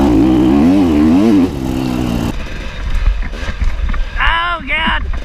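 Four-stroke dirt bike engine climbing an off-road trail in a race, a loud revving drone up close that rises and falls, then rougher and more broken, with someone talking over it.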